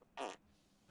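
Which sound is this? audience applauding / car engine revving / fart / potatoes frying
fart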